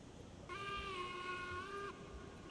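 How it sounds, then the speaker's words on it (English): A train whistle sounds in the rail game Railroads Online, one steady multi-tone blast of about a second and a half held at an even level over a low rumbling background. "Let's put our train on the siding."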